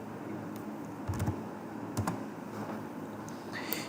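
Keys clack on a computer keyboard in short bursts and single taps, close and fairly quiet, while marks are entered for a C++ program.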